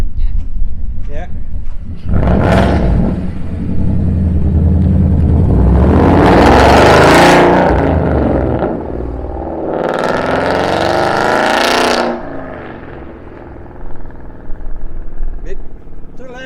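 Modified Ford Mustang GT with resonator delete and straight-pipe exhaust pulls away, giving loud repeated revving bursts that swell and fade as it drives off.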